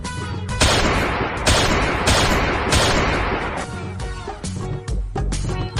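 Repeated bursts of gunfire crack out in quick succession, loud and close, forming a sustained volley with brief gaps between shots.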